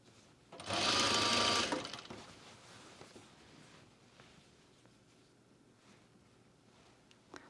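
A sewing machine stitches fabric in one short, close burst of about a second and a half, followed by quiet handling noises.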